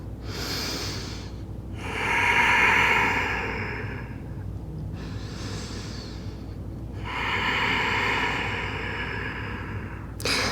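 Slow, deep breaths through the nose during a vinyasa yoga pose, four long inhale-exhale swells spread evenly across the stretch, close and fairly loud, with quiet pauses between them.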